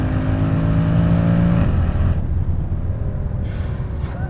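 A Mercedes C63 AMG 507 Edition with its 6.2L V8 accelerating hard at full throttle, a loud rising engine roar with a gear change partway through, heard close from inside the car.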